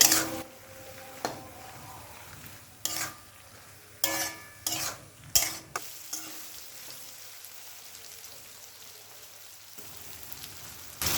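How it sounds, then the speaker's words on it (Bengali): Soft, steady sizzling of taro stolons frying in a pan over medium-high flame, with several sharp clatters of a spatula stirring early on, then a quieter continuous fry. "এবার গ্যাসটাকে মিডিয়াম টু হাই ফ্লেমে রেখে কচুরলতিটা ভাজতে থাকবো তিন থেকে চার মিনিট"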